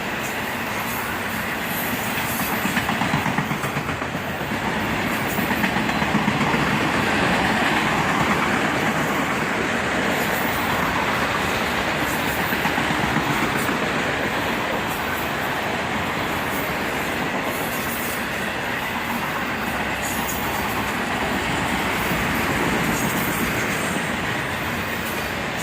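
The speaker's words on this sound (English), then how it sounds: "Northbound evening auto racks, a common sight here." A northbound evening freight train of auto rack cars rolls past at close range, a long unbroken rumble of wheels and rail noise with faint squeal and clatter, and no voices.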